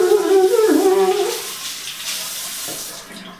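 Tap water runs steadily as hair is wetted after a shower, a close, broadband splashing rush that is loudest at first and eases off slightly toward the end, with no talking.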